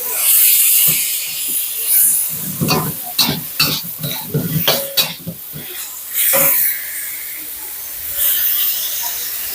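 Fried rice with vegetables cooking in a pan, with loud sizzling and repeated sharp scraping and stirring strokes from a spatula. A voice speaks briefly over the cooking.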